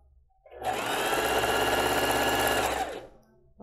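A sewing machine runs a single close, continuous burst of about two and a half seconds, stitching a seam on children's underwear fabric, its rapid mechanical whir standing alone without talk.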